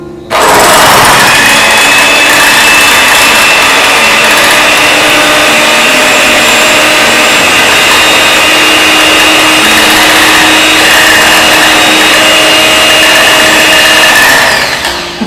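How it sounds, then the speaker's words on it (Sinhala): Electric mixer whisking three egg whites at low speed, a loud, steady motor whir with a high whine that runs unbroken for the whole stretch, no voices over it. "අපි මුලින්ම බිත්තර සුදු මද තුන බීට් කරනකොට low speed එකේ ගහන්න ඕන"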